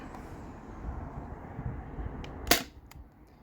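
A Sabre 68 home defense launcher fires a single sharp, loud shot partway through, rising from a steady low rumble of background noise, followed by a couple of faint clicks.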